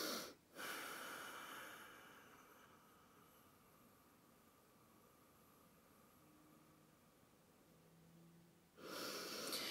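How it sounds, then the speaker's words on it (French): Controlled breathing during a facial yoga lifting massage: one long, steady, airy exhale holds for several seconds between sharper intakes at the start and end, close and without any talking. "C'est important de jouer sur la respiration, d'avoir ce contrôle du souffle là."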